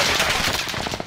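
Rapid automatic gunfire in Call of Duty: Modern Warfare, a dense burst of close, loud shots lasting about a second with no talk.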